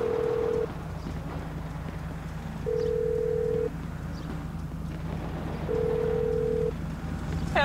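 A repeating phone ringback tone from a call placed in the video game GTA 5, three steady beeps roughly a second long spaced a couple of seconds apart over a low in-game background hum.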